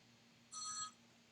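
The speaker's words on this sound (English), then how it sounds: "let me stop my phone here from ringing" A single short electronic ringtone burst, high and tonal, sounds faintly once over a quiet background hum, with no talking.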